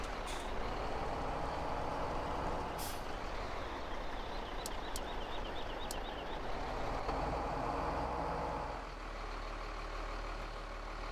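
A truck drives in Farming Simulator 17, its engine droning steadily throughout, with a few short hisses and a brief run of beeps partway through before the engine note drops near the end.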